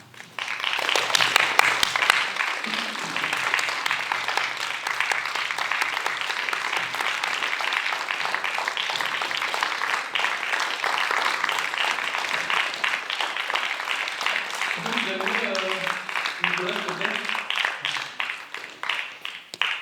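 A theatre audience applauds the Cie Blast reading at the Prix Renaudot des Lycéens 2021, steady dense clapping lasting throughout, with a few voices calling out briefly near the end.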